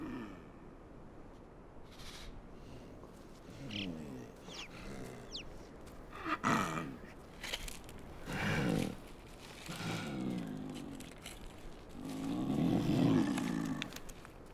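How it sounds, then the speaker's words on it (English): An agitated snow leopard chuffs in a Himalayan gorge, giving soft, low breathy bursts at irregular intervals, faint and distant against quiet outdoor ambience. "pacing around, making a chuffing sound"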